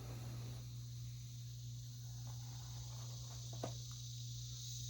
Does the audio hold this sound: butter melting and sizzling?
no